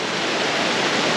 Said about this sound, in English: There's a lot of noise from the waterfall here